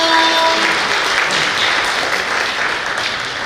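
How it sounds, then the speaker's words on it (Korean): Audience applause at a biennale forum, a loud, sustained wash of many hands clapping that fills the hall, while a faint tone is heard briefly at the start. "함께 해주신 모든 분들 위해서 다시 한번 큰 박수 부탁드립니다"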